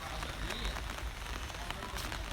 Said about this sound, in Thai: ในเมื่อที่ฝนตก